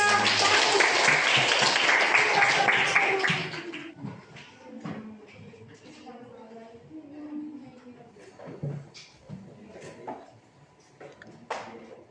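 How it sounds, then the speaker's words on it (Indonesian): A classroom group claps for the first presenting team, a loud burst of many hands for about three seconds, then it fades into quiet shuffling and murmurs. "kasih aplaus untuk kelompok 1"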